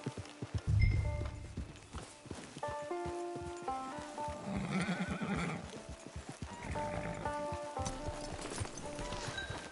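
A horse whinnies and clip-clops at a camp in Red Dead Redemption II Online, a loud neigh early on followed by steady hoofbeats beneath game music.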